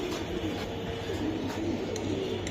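Racing pigeons coo steadily at close range, low throaty calls repeating in a soft rhythm over a constant background hum.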